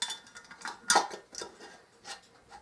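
Light metallic clinks and taps as a metal canning lid is handled and set on a hot jar of turkey stock, soft and close with a few brighter chinks and no talking.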